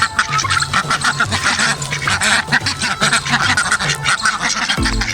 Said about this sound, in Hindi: ये मेरा मेल टर्की।